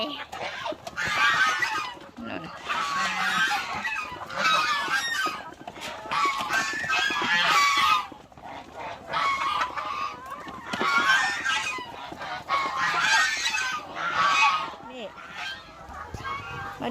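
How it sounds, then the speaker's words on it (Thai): A crowd of turkeys, ducks and chickens honks, clucks and squawks in overlapping bursts, close by and fairly loud, with occasional talking mixed in. "มีไก่งวง มีเป็ด มีไก่"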